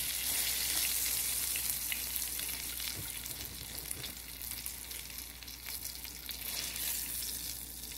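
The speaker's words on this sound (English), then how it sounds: "After our fish is nicely fried on each side for about 3 to 4 minutes, we are going to remove it from the pan" A fish fillet fries in a pan with a steady, soft sizzle and light crackle throughout, heard close and fairly quiet with no talking.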